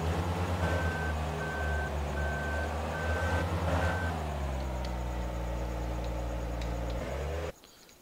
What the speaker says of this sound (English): These bobcats are not fun to drive. They're noisy too.